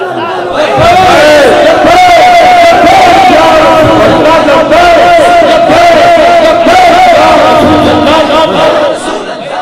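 A large crowd at a religious gathering in Pakistan chants slogans in loud, rhythmic unison, the massed voices rising and falling in repeated cries, close and dominant for the whole stretch.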